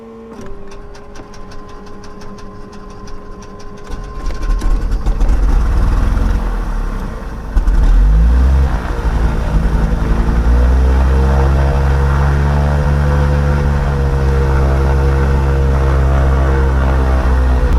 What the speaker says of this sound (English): We will start the engine here.